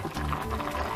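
Olan, ash gourd cooked in coconut milk, bubbles in a pot on a high flame, a short, soft burst of steady simmering and gentle liquid gurgling.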